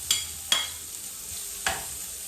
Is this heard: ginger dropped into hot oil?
yes